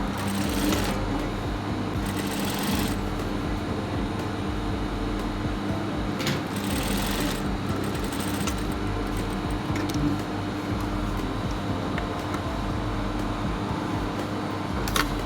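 Sewing machine stitching a sleeve placket, a steady close mechanical whir running throughout with brief bursts of faster stitching, no talking.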